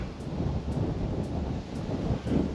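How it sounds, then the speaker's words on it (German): Wind rushing steadily across the hilltop beside the Landgrafenschloss castle in Marburg, a continuous loud buffeting roar against the microphone with no voices. "Hier oben pfeift der Wind"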